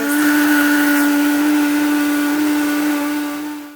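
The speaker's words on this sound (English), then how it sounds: "I went ahead and cut the cinnamon into smaller pieces so it's easier to go through my Vitamix. I'm going to go ahead and process this." Vitamix blender grinding cinnamon pieces, a loud close high-pitched motor whine with a steady tone that runs unbroken before winding down at the end.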